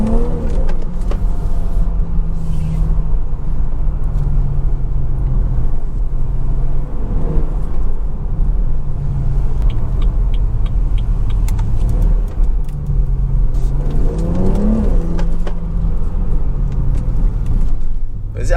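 A BMW 340i with a B58 engine drives along, its low engine rumble and road noise heard from inside the cabin through an open sunroof, steady and loud with small rises in pitch as it pulls.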